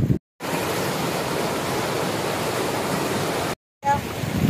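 Rapur Siddheshwara Swamy waterfall pours with loud, steady rushing water, broken by two brief silent gaps near the start and end; no voices are heard over the roar.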